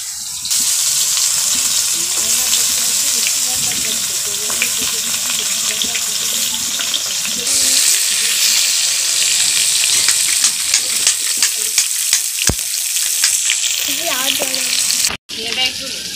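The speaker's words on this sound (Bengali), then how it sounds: "এই তেলেতেই আমি ঝিঙেগুলো ভেজে নেব। ঝিঙেকে ভেজে রেখে দেবো।" Ridge gourd frying in the same oil that just fried fish, a loud, steady, dense sizzle sustained throughout with occasional crackles and a brief cut near the end.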